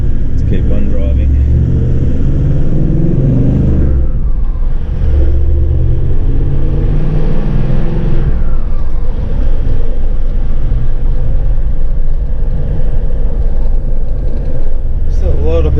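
Car driving along a road through a large High Country camping area, a steady low rumble of engine and tyre noise with wind buffeting the microphone, while people talk over it throughout.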